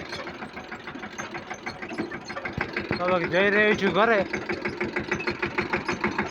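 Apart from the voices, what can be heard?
tractor engine running, loaded with fodder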